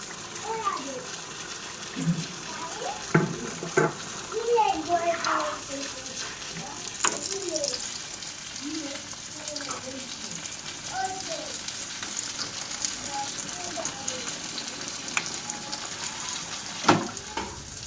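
Aubergine slices fry in a pan with a steady sizzle, while people talk over it and a few sharp clinks ring out.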